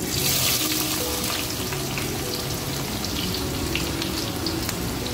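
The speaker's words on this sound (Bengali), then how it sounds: "এবার আমরা গ্যাসের মিডিয়াম ফ্লেমে পেঁয়াজটাকে ভেজে নেব।" Sliced onions fry in sunflower oil over a medium gas flame for biryani birista, giving a dense, steady crackling sizzle that stays loud and close without a break.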